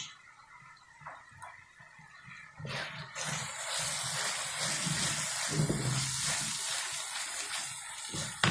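Goat head masala with dry coriander powder frying in a pan: quiet clinks at first, then a sudden loud, sustained sizzle and hiss that carries on steadily to the end.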